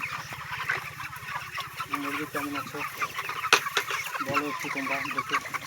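Chickens in a poultry shed cluck and call repeatedly at close range, under a steady low mechanical hum, with people talking nearby.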